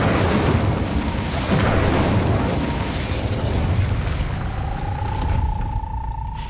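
An Incendio fire spell goes off in Hogwarts Legacy, a loud rushing burst of flame and booming whoosh that fills the scene, fading toward the end as a thin whistling tone rises.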